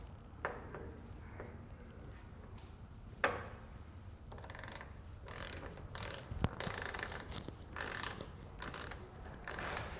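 Wrench clicking on the bolt of a Tailgate Assist lowering system on a 2012 Chevrolet pickup, faint quick ratchet ticks in short bursts amid quiet background, with no talk.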